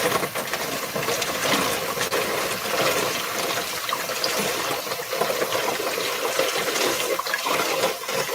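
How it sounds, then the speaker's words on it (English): Tap water runs steadily over food being rinsed in a kitchen sink, a continuous splashing wash that stays close and even the whole time, with no voices. "Gonna rinse them off real quick."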